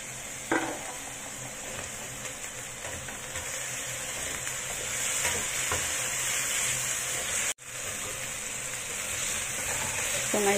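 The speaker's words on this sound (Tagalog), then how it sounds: "i-fry lang natin yan ng hanggang sa mag-brown siya" Potato pieces fry in hot oil for chicken curry, giving a steady, close, bright sizzle that runs throughout with a few light stirring clinks and one brief dropout near the end; no one speaks.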